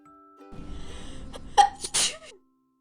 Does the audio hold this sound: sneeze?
yes